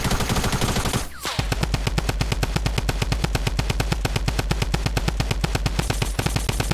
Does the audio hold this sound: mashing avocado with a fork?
no